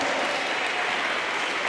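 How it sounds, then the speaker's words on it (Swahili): A church congregation claps together in a dense, continuous burst of applause, moderately loud and brief, without speech. "Mpige Yesu makofi."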